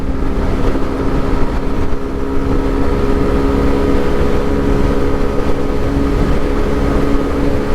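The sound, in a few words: Yamaha YS125 motorcycle engine at full throttle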